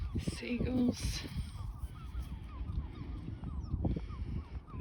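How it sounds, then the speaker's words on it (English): Seagulls call from a pond near the beach, with several harsh, repeated cries at moderate distance over outdoor background noise. "Just a few seagulls."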